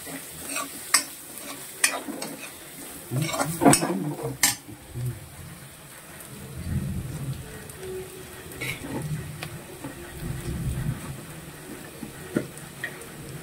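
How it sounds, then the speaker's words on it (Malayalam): Clam meat being stirred and fried with spices in a pan for Kerala-style kakka fry, with scraping spoon strokes and sharp clinks early on, then steady moderate sizzling and stirring close by, with no talk. "ആഡ് ചെയ്ത് കൊടുത്തിട്ട് നമുക്ക് നന്നായിട്ട് ഇളക്കാം."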